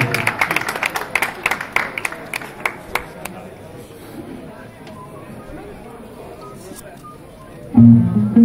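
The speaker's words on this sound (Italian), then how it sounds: "Un grosso applauso, davvero." Audience applause for the musicians at an open-air jazz festival in Forlimpopoli: scattered, sharp claps that thin out and fade to quiet room noise, before a voice speaks loudly at the end.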